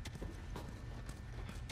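Horse hooves clip-clop in The Last of Us, a quick run of close hoof beats over a dense game background, with no voices.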